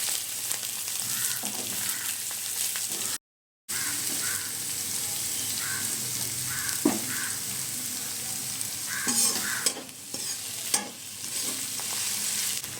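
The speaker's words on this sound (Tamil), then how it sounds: "கொஞ்சம் ஃப்ரை ஆகிருக்கு" Onion sizzles in hot oil with cumin, curry leaves and dried chillies while a spoon stirs the pan, making steady frying crackle and occasional scraping, with a brief dropout partway through.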